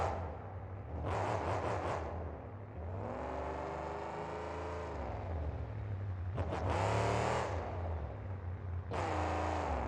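A loud, heavy monster truck engine revs and roars in repeated surges, whining up and dropping back during wheelie attempts at a Monster Jam freestyle show in BeamNG.drive, with no talking.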